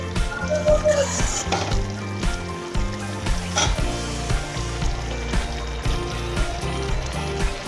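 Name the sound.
mushroom curry gravy boiling in a pan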